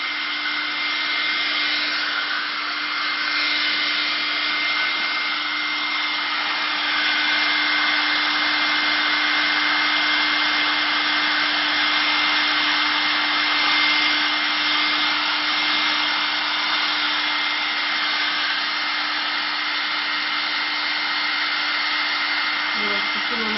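A hair dryer runs steadily for the whole stretch, drying freshly applied glass paint on a plate: a loud, continuous blowing whoosh with a constant motor hum and no talk over it.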